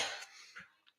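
A few short, soft coughs and a breathy throat sound from a live baseball commentator during a Dodgers vs Yankees World Series game, close and quiet, with brief pauses between them.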